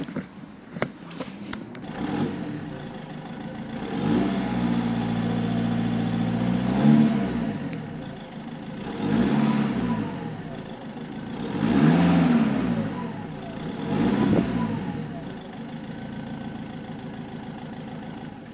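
A Vauxhall Combo van engine idles with a deep exhaust rumble through a universal back box, then revs up three times in swelling bursts before settling back, close and loud with no talk.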